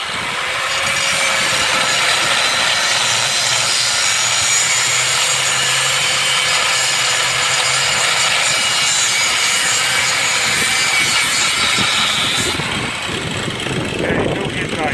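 Steel being cut with a power tool while a building is being moved, a loud, steady, grinding rasp that runs throughout.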